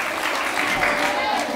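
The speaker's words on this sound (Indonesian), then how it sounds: "Beri tepuk tangan untuk Mahfiratul Latifah." Applause for a contestant in the final round of a Sayyidah As Sholchah pageant, a dense, steady burst of clapping from a crowd lasting under two seconds.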